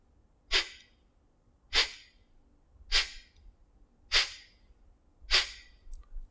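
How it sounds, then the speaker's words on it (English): Kapalbhati breathing: five short, sharp, forceful exhales through the nose, evenly spaced about a second apart, close and clear with quiet pauses between. "So it's a short, sharp exhale through the nose,"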